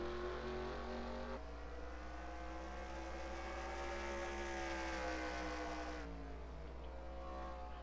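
Race car engines whine and rev in NASCAR Racing 2003 at Thompson, several cars droning together with rising and falling pitch across the lap, steady and unbroken.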